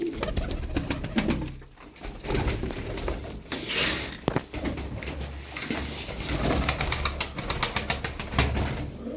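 Turkish tumbler pigeons coo softly and flap their wings in bursts, the wingbeats sounding as sharp rapid flutters against a low, near cooing and a busy outdoor background.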